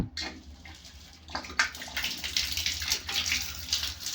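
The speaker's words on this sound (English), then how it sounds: "then I just open the tap" Water gushes steadily from a newly fitted mixer tap on a washing machine supply line, a loud continuous splashing rush that starts abruptly and swells, flushing debris through the pipe.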